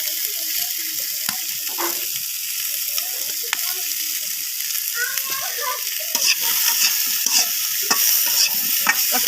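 Food sizzles in hot oil in a pan while a spatula stirs it, producing a continuous frying hiss overlaid with irregular scraping clicks that grow slightly louder toward the end.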